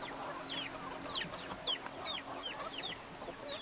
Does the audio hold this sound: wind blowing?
no